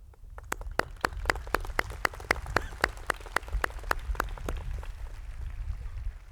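Sparse audience applause at the Irvine Valley College commencement in 2003, a scattering of distinct hand claps rising through the middle and then thinning into a quieter murmur of the crowd.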